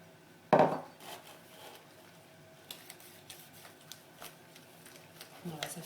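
A wooden spoon stirs pancake batter in a bowl, with one sharp knock on the rim and then a run of soft, irregular scraping taps against the bowl while people talk.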